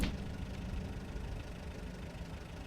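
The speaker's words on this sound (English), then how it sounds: "And let's stop the engine." Parked truck engine idling in Spintires: Mudrunner on a winter road, a steady low rumble that holds constant throughout, close and moderately loud with no speech.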